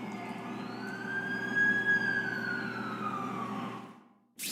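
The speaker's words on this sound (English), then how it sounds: "That's the ambulance I called." An ambulance siren in The Amazing Spider-Man 2 video game wails with a rising then falling tone over a low engine rumble, loud at first and fading out before a brief burst of noise at the end.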